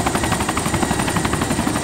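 Helicopter in the Arma 2 game, its rotor thudding in a loud, steady rapid pulse close by with no break.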